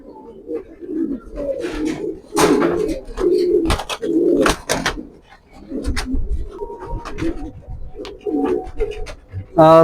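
Pigeons coo in low, throaty bursts again and again, close by, with occasional fluttering and splashing sounds mixed in.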